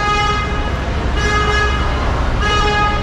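A car horn honks loudly and repeatedly in city traffic in Lisbon, the long toots sounding close over the steady roar of passing vehicles.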